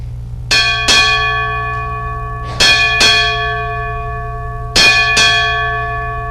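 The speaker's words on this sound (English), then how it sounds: "Sound 6 bells." Six ship's bells rung in three spaced pairs at a US Navy retirement ceremony, each pair a clear, ringing double strike that decays slowly, loud and close over a low steady hum.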